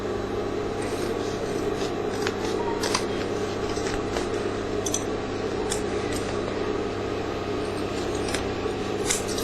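Scissors trimming excess material from a handmade men's bag, a continuous close scraping and rubbing texture with faint snips over a low background hum.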